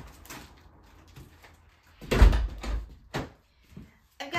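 A home front door opens and knocks shut with a solid thud amid faint shuffling and handling noises, heard close in a quiet room while packages left by couriers are collected.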